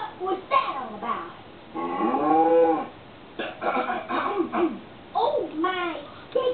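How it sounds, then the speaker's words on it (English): Cartoon cows moo in a few drawn-out, wavering calls, mixed in among character voices and babble in a My Little Pony farm scene where Applejack grabs one of the cows. "So, Applejack grabs one of the cows"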